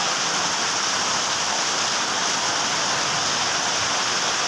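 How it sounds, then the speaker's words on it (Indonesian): Heavy rain falls in a steady, loud hiss with no breaks, a dense wash of water noise that sounds close and continuous throughout; no voices are heard. "aduh, cuacanya sedang hujan."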